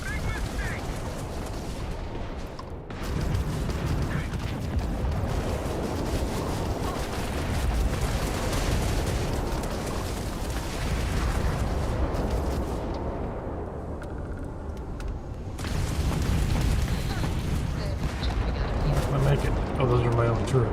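Heavy automated turret fire in the sci-fi game Starfield, a dense, loud barrage of shots and blasts that runs almost without pause, with a brief lull and a short quieter stretch, while a player talks over the action.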